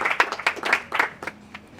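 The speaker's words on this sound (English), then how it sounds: "please let's have a clap for Kasha." Light applause from a small audience at a talk on transforming toxic relationships, a short burst of scattered hand claps that quickly thins out.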